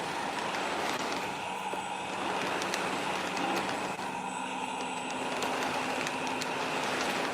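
A Lionel MTH model train with eight passenger cars runs along the track, making a steady whirring rumble with light rhythmic clicking. The sound is continuous and fairly quiet, with no talk.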